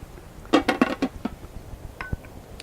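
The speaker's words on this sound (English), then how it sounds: "Just going to pop the lid on so that we can keep the heat in." A metal lid goes onto a cooking pot in a campervan kitchen, giving a quick run of close clanks and clinks, then a couple of lighter taps as it settles.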